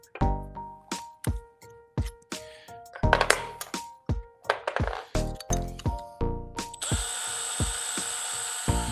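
A power drill bores magnet holes in a series of short, sharp bursts, about a dozen start-and-stop revs with clinks between, ending in one longer sustained whine, close and with no talking.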